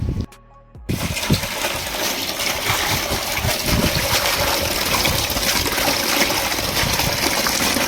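Running water over freshly cut leafy greens (pattanam and ordinary bachali/Malabar spinach) being washed, a steady splashing, trickling rush that starts after a brief pause and continues close and loud throughout, with no talking.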